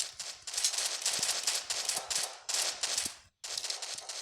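Rapid bursts of video game gunfire at zombies, loud and close, crackling in repeated volleys with a brief gap near the end.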